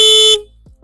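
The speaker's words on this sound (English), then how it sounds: "and the horn, which sounds like this." A 2025 Triumph Tiger 900 GT motorcycle horn gives one loud, close, short blast of a bright buzzing tone, lasting about a third of a second before cutting off.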